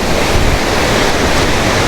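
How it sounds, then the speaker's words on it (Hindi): A waterfall pouring down from the mountains in Saklikent Canyon National Park near Fethiye, Turkey, a loud unbroken rushing roar of falling water, close by. "ये आबशार यहाँ से ये पहाड़ों में से पानी आ रहा है।"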